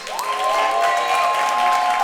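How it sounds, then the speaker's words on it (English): A live audience at a spoken-word event bursts into steady, loud applause that fills the whole stretch, with a sustained tone running underneath. "Let's give a big round of applause"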